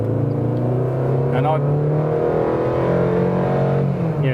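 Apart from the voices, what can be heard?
Fiat Tipo engine revving during kick-down acceleration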